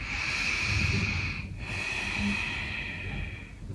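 Slow, deep breaths drawn in and let out during a standing yoga forward bend with straight back and locked knees, a steady close airy rush with a short pause midway.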